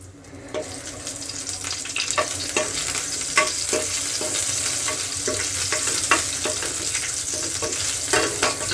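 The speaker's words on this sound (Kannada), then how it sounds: "ಇದಕ್ಕೆ ಹಸಿರುಮೆಣಸಿನಕಾಯಿ 2 ಕಟ್ ಮಾಡಿ ಹಾಕೊತೀನಿ" Green chillies cut in two sizzle loudly in well-heated oil, a dense close crackle with frequent pops and stirring scrapes running steadily throughout.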